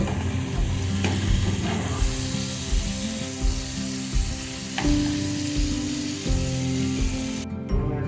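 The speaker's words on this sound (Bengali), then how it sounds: "বেশি ফ্রাই করলে চিংড়ি মাছ ভালো লাগবে না তাই অল্প করে ফ্রাই করে দেব" Shrimp fry lightly in a pan of oil, giving a steady close sizzle with soft stirring and scraping over it. No one speaks.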